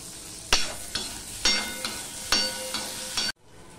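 Chopped tomatoes tossed into frying onions in a pan, several sharp spatula strikes and scrapes over a crackling sizzle, close, ending abruptly.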